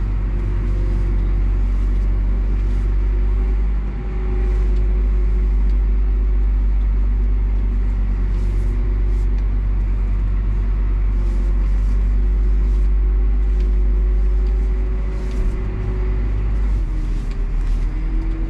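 A CLAAS tractor pulls slowly out of a stuck spot at night, a loud continuous low diesel rumble holding steady throughout with faint clinks and knocks over it.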